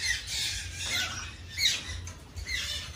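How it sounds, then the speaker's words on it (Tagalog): Scattered high bird calls and squawks chatter over a low rumbling background on a farm, several birds calling at moderate distance with no talking. "Daming ibon na makikita."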